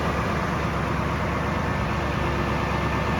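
A Steiger Bearcat tractor engine fitted with dual exhaust pipes runs steadily, a continuous close rattling rumble with no change in pace.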